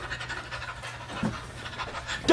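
An excited dog pants rapidly and rhythmically close by, a steady breathy huffing with faint background noise.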